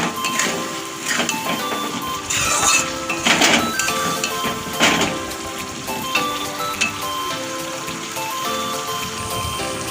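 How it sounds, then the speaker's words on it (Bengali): Potatoes stir-fried with spices in a pan: a steady sizzling hiss runs throughout, with scattered clinks and scrapes of a utensil against the pan rising in a few louder bursts. "আলুগুলো দিয়ে আমি আর 1 মিনিট কষে নেব।"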